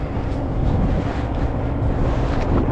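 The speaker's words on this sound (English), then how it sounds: "crazy wind, you guys. Some serious wind." Strong wind buffeting the microphone outdoors, a loud constant low roar and rumble with no pauses and no voices.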